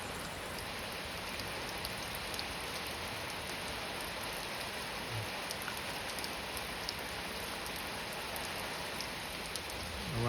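Light, steady rain falls in a village, a continuous soft hiss of drops pattering on surfaces, unchanging and alone for about ten seconds.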